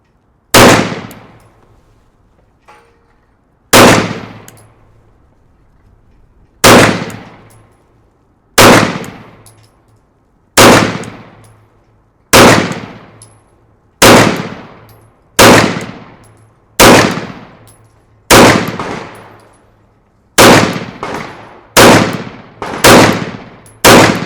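Loud gunshots from a CZ P10 C pistol fitted with a red dot, fired with 147 and 127 grain ammunition: about fifteen sharp reports, evenly spaced at first, then coming quicker near the end, each ringing out briefly.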